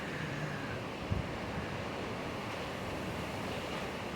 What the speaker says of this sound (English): Yeah, it's real windy. We're getting gusts up to 60 miles an hour tonight.